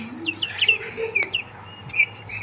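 Turkeys and guinea fowl on a farm give short, scattered high chirps and squawks at moderate distance, several overlapping calls in an uneven rhythm over a low background hum.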